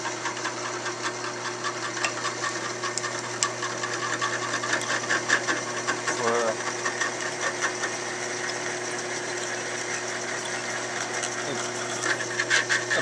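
A drill boring a 3/16 inch hole through tempered steel, a steady, continuous motor whine and grinding hum that holds evenly for the full stretch with no talk.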